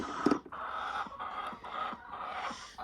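A chicken clucks repeatedly at moderate distance, a series of short rhythmic calls with background noise and no voices.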